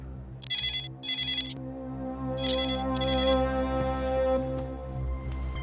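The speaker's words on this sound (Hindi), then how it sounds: "रिलैक्स अंजलि, फोन फिर आएगा ना?" A telephone rings in two pairs of bright electronic trills over a low steady background hum, the trills separated by a short gap, with no speech.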